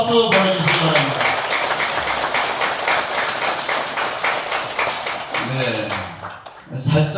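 A crowd at a Buddhist temple dharma gathering gives a big round of applause to welcome an elderly guest, steady dense clapping filling most of the clip before tapering off near the end.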